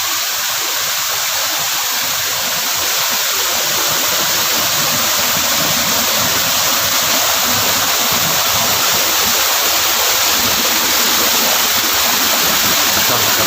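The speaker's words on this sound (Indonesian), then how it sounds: "air terjun." A waterfall roars beneath thick, dense vegetation in a steady, loud, close wash of rushing water that holds constant throughout, with no talking.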